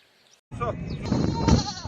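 Goats and sheep bleat at a crowded livestock market in Mashtaga, Azerbaijan, their calls mixed with a steady murmur of nearby voices after a brief silent start.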